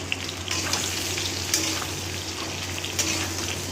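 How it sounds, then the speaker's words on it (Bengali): Potatoes fry in plenty of hot oil in a wok over a raised gas flame, a dense, steady close-up sizzle with a few sharp scraping clicks of stirring. "কড়াইতে অনেকটা তেল আছে বলে আলুটা ভেজে নিচ্ছি।"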